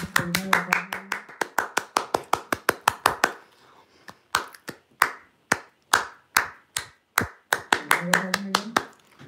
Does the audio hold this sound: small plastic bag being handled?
no